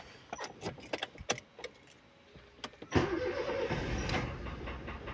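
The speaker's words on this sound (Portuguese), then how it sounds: "Então vou ligar o motor aqui" A car with an engine knock and oil warning light is started: key clicks and jingling come first, then the starter cranks and the engine catches into a steady, rough idle, close up.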